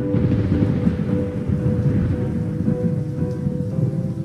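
Thunderstorm with rain in a custom Trombone Champ song in the video game, a dense, steady hiss of falling rain over low rumbling thunder, loud and continuous with no talk.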